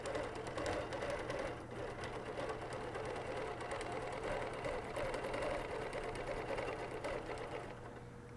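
A BERNINA Q Series quilting machine (Q16 or Q20) stitching fabric with a steady, continuous mechanical whir and rapid needle chatter, loud and close, running without pause.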